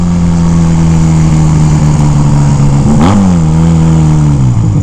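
A motorbike engine runs loud and close with a steady low drone, dipping briefly around the third second and then holding its note as the bike rides on, with no voices over it.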